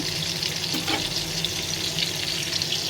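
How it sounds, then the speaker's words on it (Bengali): Fish, flipped belly-side down into hot oil in a pan, fries with a dense, even, hissing sizzle that fills the whole moment without any voices. "এখন পেটের সাইডটা আমি ভালো করে ভেজে নিতেছি, উল্টাই দিয়ে পেটটা তেলের ভিতর রাখছি।"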